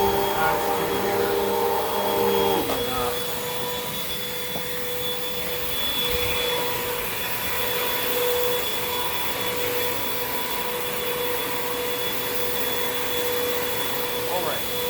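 A Hoover vacuum cleaner runs continuously while cleaning a resort room, a loud steady drone with a high whine throughout, its pitch shifting slightly as it moves.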